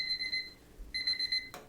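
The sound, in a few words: kitchen timer beeping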